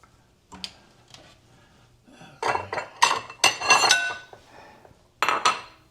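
Kitchen containers and dishes clatter and clink during dinner prep, a few light knocks early then a dense burst of rattling clanks in the middle and a final clatter near the end, close by with no talk.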